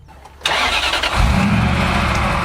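After a moment of quiet, a Toyota 1GD diesel engine swapped into a Hummer H3 cranks and catches abruptly, then settles into a loud, rough idle close by with a slight rev.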